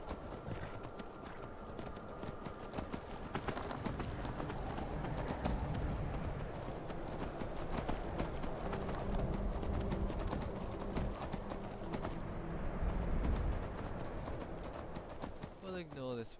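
Rhythmic clip-clop of horse hooves trotting in modded Skyrim under a busy game soundscape, with a voice speaking intermittently over the steady hoofbeats.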